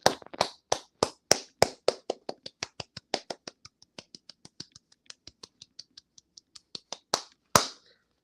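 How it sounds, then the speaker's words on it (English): A run of sharp hand claps, rapid and close at first, then softer and more evenly spaced, ending with a few louder claps, with no talking. "Another hand clap."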